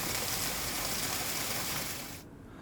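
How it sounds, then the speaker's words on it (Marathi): Broad, steady rush of floodwater from the Ghataprabha river in Belagavi running full to its banks, a loud continuous roar that cuts off sharply near the end. "बेळगावातील घटप्रभा नदी दुथडी भरून वाहू लागलेली आहे."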